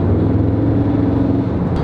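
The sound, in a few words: Audi S3 engine purring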